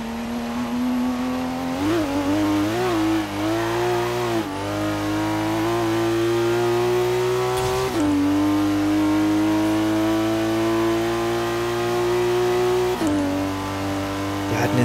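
A Dodge Viper in the Forza Horizon 3 racing game roars with a deep, sonorous engine note, holding loud sustained revs that climb steadily, broken by several quick gear-shift dips over roughly fifteen seconds with no talking.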